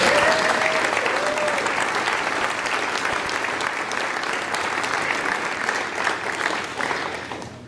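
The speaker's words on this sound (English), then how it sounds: "Let's give her a round of applause." A church congregation at a jubilee celebration claps warmly and steadily for several seconds, a full room of applause that slowly eases off toward the end.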